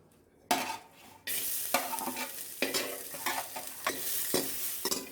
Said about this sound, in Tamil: ஒரு கட்டி பூண்டை இடித்து வச்சுருக்கிறேன், அதையும் அதில் போட்டு வறுத்துக்கலாம்